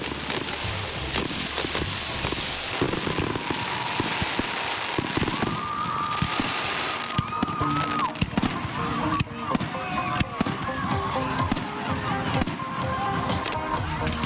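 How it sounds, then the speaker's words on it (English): Fireworks show at a high school football game at O'Gorman, with continuous crackling bursts, pops and whistling rockets filling the air, loud and sustained across the whole stretch amid outdoor crowd ambience. "we'll just kind of enjoy this fireworks show here for a second"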